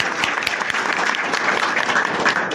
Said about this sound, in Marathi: टाळ्या वाजवा सगळेजण